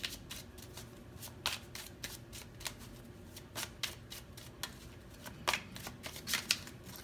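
A deck of tarot cards is shuffled in a steady run of soft, crisp riffles and slaps, close and fairly quiet, with a few louder bursts near the end and no talking.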